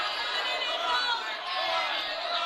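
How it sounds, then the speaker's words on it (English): A crowd roars and cheers continuously at a live fight event, a dense wash of voices filling the space, with a commentator talking over it. "the crowd is going bananas right now"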